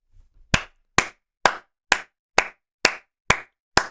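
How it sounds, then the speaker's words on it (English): Eight sharp hand claps ring out one after another at an even, unhurried pace, close and crisp with silence between them and a little low rustle just before the first. "You deserve way more claps."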